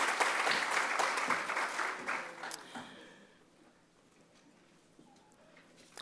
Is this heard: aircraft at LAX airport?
no